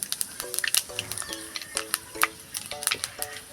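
Bengali five-spice seeds hit hot oil, popping and crackling in quick irregular bursts with short tonal pings, close and fairly loud over a light frying hiss.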